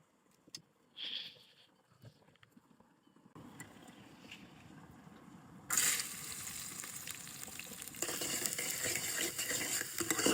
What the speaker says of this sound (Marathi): आता पहिलं तेल टाकू आणि कांदा तळायला टाकू.